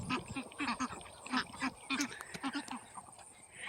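White and brown Chinese geese on a farm give a string of nasal honks, with Muscovy ducks nearby; the calls come in quick clusters, close by and moderately loud.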